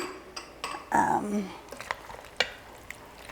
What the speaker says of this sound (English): I like to stir in the pesto next.